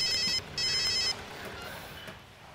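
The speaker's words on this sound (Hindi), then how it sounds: "आपका फोन बजा" A telephone rings in two short, bright electronic trilling bursts indoors, fairly close, with no speech over it.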